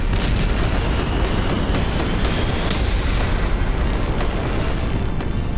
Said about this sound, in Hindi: न्यूक्लियर बम जब धरती पर गिरता है तो धमाके के साथ धुएं का गुबार उठता है